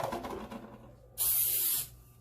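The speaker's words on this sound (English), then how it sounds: "Spray it liberally." A short, loud hiss of aerosol cooking spray onto a baking sheet lasting under a second, bursting in suddenly after a quieter stretch and cutting off cleanly.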